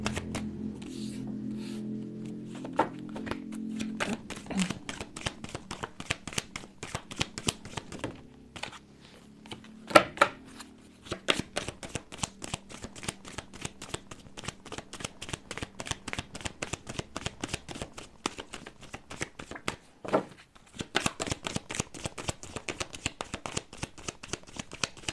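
Tarot cards shuffled by hand in a long, dense run of quick crisp riffles and taps, close and steady for most of the stretch, with a few louder snaps and no talking.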